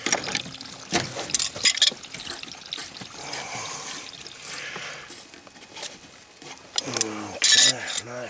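Water trickling and draining from household plumbing while a well pressure bladder tank is replaced, with the house main shut off; a wet dribbling flow with clanks of metal, and someone speaking briefly near the end.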